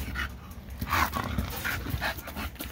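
An American Bully pocket male dog panting close up, rapid rhythmic breaths with a few soft whimpery sounds, no one speaking.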